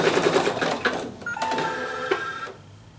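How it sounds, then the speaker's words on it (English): An embroidery machine tacks fabric down with a fast, rhythmic mechanical stitching chatter and whirring tones, then slows and stops near the end. "I'm going to start my machine again, and it's going to tack that fabric down in place."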